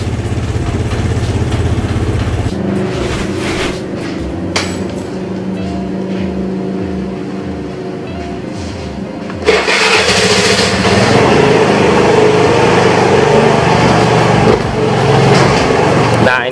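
Vespa LX 150 iE scooter engine while riding on a residential complex road, a steady close motor drone that swells louder and rougher partway through as throttle is applied.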